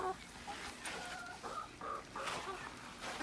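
Laying hens cluck softly at a short distance, a scattering of low murmuring calls over steady background noise with faint human voices mixed in.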